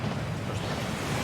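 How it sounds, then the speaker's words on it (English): A waterfall in the Hogwarts Legacy video game pours as a dense, steady rushing roar, loud and close, with no voices over it. "That waterfall washes away all enchantments."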